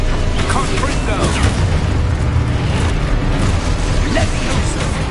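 Confringo blasting spell explosions from the Hogwarts Legacy video game, with dense loud booms and bursts in continuous combat noise, mixed with a shouting voice throughout.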